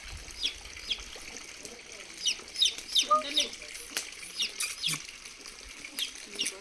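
Several baby chicks being held by hand give faint, repeated high cheeping peeps in short bursts, close by, over quiet background rustle with soft talk.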